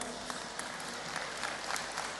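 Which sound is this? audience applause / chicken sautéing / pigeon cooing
audience applause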